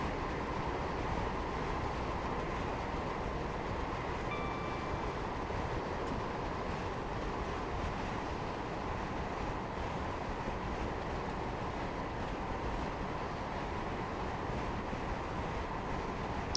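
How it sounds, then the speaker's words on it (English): A Class 158 diesel train with a Perkins engine drones steadily at speed for the whole stretch, a loud, even onboard rumble with wind noise and no talking. "even the Perkins engine on this 158 is struggling with this 1 at 100."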